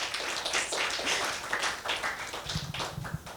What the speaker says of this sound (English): can we please have a big round of applause for Karin?